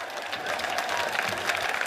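Crowd applause and cheering at an outdoor parachute display, a steady dense wash of clapping that carries on without a break for the whole stretch.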